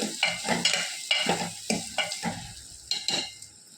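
Brinjal masala with fenugreek is stirred and sautéed in a pan on low heat, with repeated close spatula scrapes and clinks in a steady rhythm over a gentle sizzle.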